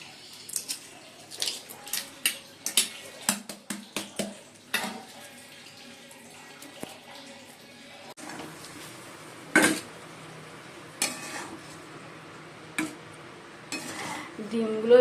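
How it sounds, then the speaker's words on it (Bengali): Boiled eggs peeled by hand in a home kitchen: scattered close crackles and soft squishy clicks of shell coming away, with occasional clinks of dishes and a brief splash of water, fairly quiet throughout. "যে বন্ধুরা ডিমটা ছাড়িয়ে নিচ্ছি"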